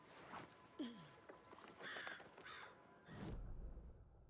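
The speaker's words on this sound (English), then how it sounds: "Hear crows." Crows caw a few times near a flooded path outdoors, short harsh calls spaced irregularly and fairly faint, with quiet talk and footsteps around them.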